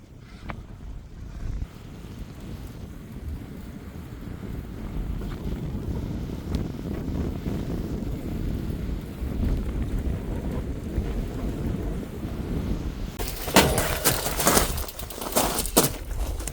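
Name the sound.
strong wind while cycling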